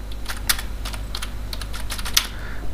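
Fingers type a title on a computer keyboard in a steady run of light, crisp key clicks with small uneven pauses. The tapping is close and clear over a low hum.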